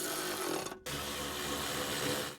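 A power tool whirs as nuts are snugged down on the 12-volt battery bracket of a 2004-2009 Toyota Prius, running steadily with one brief cutout before it resumes, close and fairly loud, no talking.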